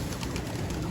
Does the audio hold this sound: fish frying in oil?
no